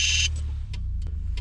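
A Ferrari engine starts with a brief high whir, then settles into a steady, loud, low rumbling idle close by, with a few faint clicks over the drone.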